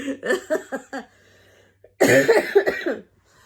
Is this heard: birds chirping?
no